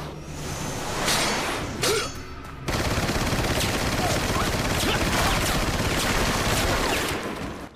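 Gunfire from Krauser aimed at Leon in Resident Evil 4, a dense stretch of rapid shots and whooshes that turns into a loud, continuous volley of automatic fire in the second half.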